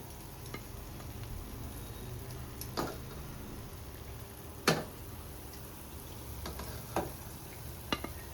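Thekua, a fried sweet, sizzles in hot oil with a constant soft crackle. A few sharper clinks and scrapes cut in at intervals as the pieces are stirred and lifted out.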